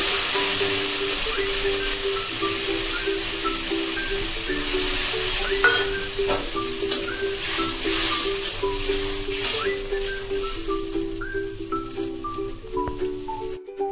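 Fried ghot kochu (taro) curry simmering in a pan after water is added gives a steady, even sizzle and bubbling hiss for the whole stretch, with faint sustained tones in the background.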